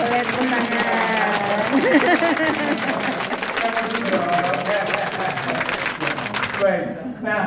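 Audience clapping in an Indonesian curriculum workshop session, a steady dense round of applause from a room of people that holds evenly and then cuts off near the end.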